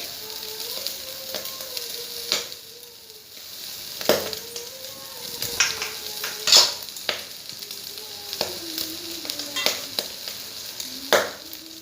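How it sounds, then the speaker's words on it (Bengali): Rice for pulao is fried in oil in a pan with bay leaf and raisins, giving a steady sizzle with repeated scraping stir strokes and clinks, close and moderately loud, with no speech. "চাউলটা খুব ভালো করে ভাজতে হবে"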